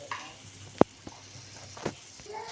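Fried cashews seasoned with salt and pepper are stirred in a pan, a soft low sizzle with one sharp clink of the spoon and a few lighter scrapes, close and quiet.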